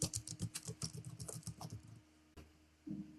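A card number is typed on a keyboard as a quick, steady run of light key clicks up close, then a pause and a couple of final taps.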